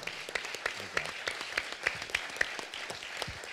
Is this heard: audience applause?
yes